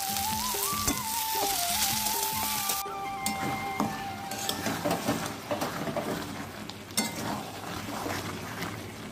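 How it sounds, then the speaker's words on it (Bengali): Meat fries in a pan for kosha, a continuous sizzle with scattered clinks and scrapes of stirring. It follows a few seconds of melodic music at the start. "মাংসটা আমি কষছি"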